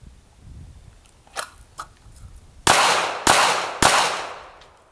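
.380 pocket pistol drawn from a Kydex holster fires three sharp, loud shots about half a second apart, preceded by quieter clicks and handling noise.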